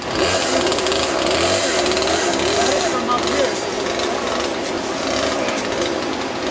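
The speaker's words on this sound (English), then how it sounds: "Corky's supervising while Steve got his brand new chainsaw." A new Poulan chainsaw buzzes loudly and continuously at close range cutting logs, its whine wavering slightly as it cuts, with voices faintly beneath it.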